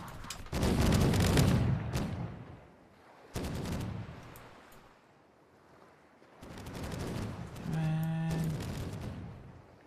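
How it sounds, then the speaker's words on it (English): Dense bursts of cannon and gunfire in the Caribbean! video game, in three heavy rolling volleys with quieter gaps between, the last one joined by a brief tonal chime, with no speech. "Wow, that was a lot of shots going on."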